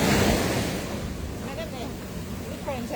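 Ocean surf washes onto a beach, a steady close rush of waves mixed with wind buffeting the microphone, loudest at the start and then settling.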